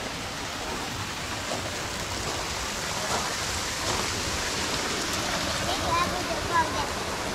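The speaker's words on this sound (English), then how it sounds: "Look at that waterfall." Broadband rushing water from a playground waterfall water feature, steady and moderately loud throughout, with children and an adult talking faintly over it.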